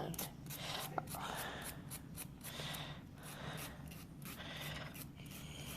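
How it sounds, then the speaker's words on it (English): A nail file rubbing off a nail wrap, close and quiet, with repeated short rasping strokes in a steady back-and-forth rhythm. "So I file with the wrap on and use the file to take off the wrap."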